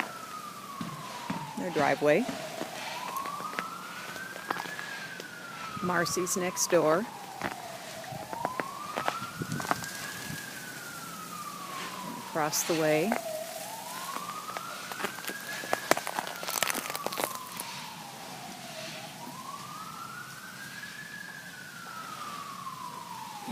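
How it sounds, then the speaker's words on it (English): An emergency vehicle siren wails in repeated rising and falling sweeps during an ice storm in Sioux Falls, steady and moderately distant, while someone talks over it about the surroundings. "Another siren."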